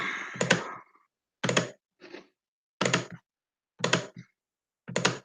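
Computer keyboard and mouse clicking in a handful of short, evenly spaced bursts about a second apart, close by with silence between each clatter.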